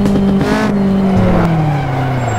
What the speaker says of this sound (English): Scandinavian flick, British sports car.